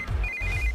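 A phone's ringtone plays a steady high electronic tone, faint and brief, over a low background rumble.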